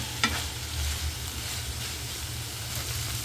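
Bangus sisig with ampalaya sizzles steadily in a hot pan while it is stirred, with a sharp scrape of the utensil near the start, close and continuous with no talking.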